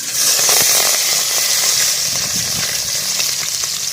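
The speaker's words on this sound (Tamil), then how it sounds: "எண்ணெய் நல்லா காஞ்சிச்சு, சீரகம் போட்டுக்கலாம்." Cumin seeds sizzle and crackle steadily in hot oil in a pan, a loud, continuous frying hiss with small pops throughout and no voice.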